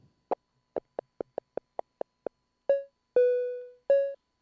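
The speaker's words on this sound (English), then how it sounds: "I'll play some triangle wave over it or something like that" Synthesizer playing a triangle wave: a run of short, evenly spaced plucked tones, then three longer held notes, clean and isolated against silence.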